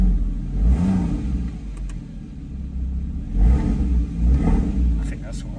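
Porsche Boxster GTS engine revving in repeated throttle blips, deep and close, rising and falling in several bursts.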